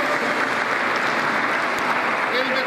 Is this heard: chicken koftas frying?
no